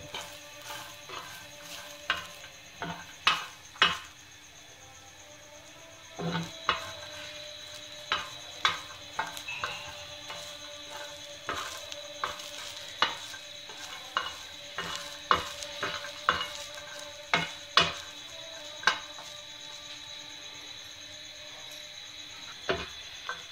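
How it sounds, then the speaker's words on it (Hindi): Garlic and coconut roast on a hot tawa, with a faint steady sizzle under repeated sharp clacks and scrapes of a spatula stirring at an irregular pace, close and fairly quiet. "इसे मैं तवे पर फ्राई करूँगी"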